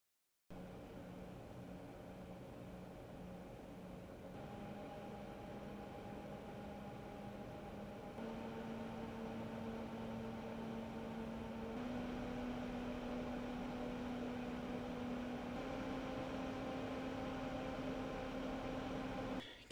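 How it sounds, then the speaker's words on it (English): An Atmos II liquid CPU cooler's fan runs with a steady, faint whirring hum and low tonal drone, which grows slightly louder partway through and holds constant to the end. "just a fan noise sample for your consideration."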